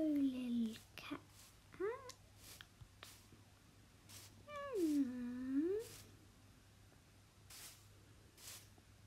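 Cartoonish cat meows from a fishing video game: one near, clear meow at the start and a longer drawn-out one midway, with a soft steady hum and a person talking in between.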